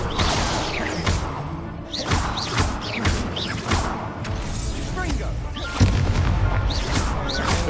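A fire spell cast repeatedly in Hogwarts Legacy gives loud, whooshing booms that burst out roughly every second over a busy game soundscape.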